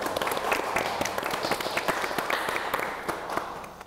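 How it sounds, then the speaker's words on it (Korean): Audience applause in a studio at a Dongguk University Buddhist program, a steady mid-level wash of many clapping hands lasting the whole stretch with distinct individual claps popping out. "박수 한번 나눠보면 어떨까 싶습니다"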